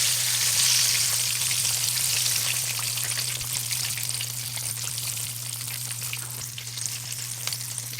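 Double-breaded spicy chicken pieces deep-fry in a pan of hot oil, giving a dense, constant sizzle with fine popping crackles and a low steady hum underneath, fairly close and with no talking.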